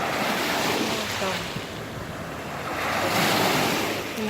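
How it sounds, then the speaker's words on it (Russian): Morning sea waves wash onto a rocky shore in a steady roar of surf with gusty wind buffeting the microphone, swelling louder toward the end, with no voices over them. "Море."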